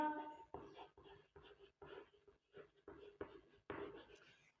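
Chalk or a marker writes numbers on a board in a math lesson, short scratchy strokes coming in quick bursts separated by brief pauses, close and faint.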